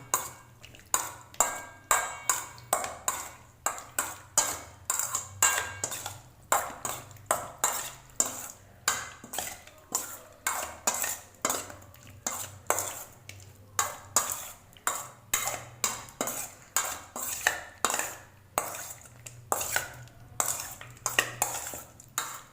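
Spiced Indian potato salad (aloo katchaloo) with red chili being tossed in a bowl, producing a steady run of quick, bright clinks and scrapes of utensil against the bowl, loud and close with no talk.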